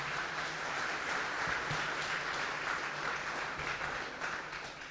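Church congregation applauding during a Spanish-language sermon, steady broadband clapping throughout at moderate level, with no clear speech on top.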